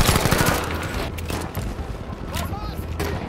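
Automatic weapon fire rattles in Battlefield V, rapid bursts of gunshots in a fast stream with in-game shouts and voices over the shooting.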